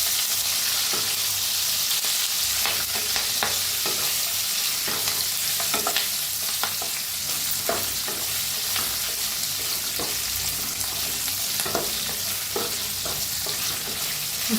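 Curry leaves and small chillies roasting in a pan, a continuous loud sizzle with scattered crackles and the scrape of stirring throughout, no voices.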